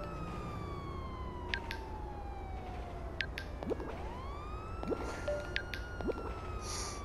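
A police car siren wails steadily, rising and falling in long sweeping tones. It sounds fairly distant and fills the whole stretch, with faint scattered clicks and noises on top and no talking.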